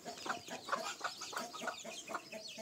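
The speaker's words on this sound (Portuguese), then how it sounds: "A galinha é uma brabeza," Several chickens on a farm cluck in a rhythmic series of short calls, fairly close and moderately loud, with no talking.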